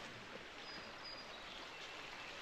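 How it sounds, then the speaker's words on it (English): Water runs steadily in Walnut Creek beneath the heavy-duty Stutzman Crossing bridge in Ohio's Amish country, a soft, continuous rushing hiss with no voices. "You can hear the water just running."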